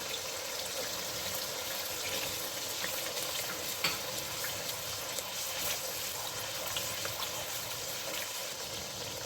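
Garlic ginger paste sizzles in hot ghee for a mash daal, a soft, steady frying hiss with a few faint crackles and no voices.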